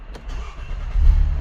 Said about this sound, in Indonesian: kita sekarang coba nyalain mobilnya